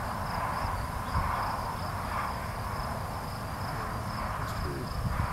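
A honeybee swarm gathering at a hive after capture from a small pine tree outdoors, with a steady, dense buzzing drone continuing throughout.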